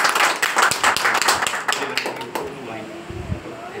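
A church congregation claps together in praise, a dense burst of many hands at close range that fades out after a few seconds.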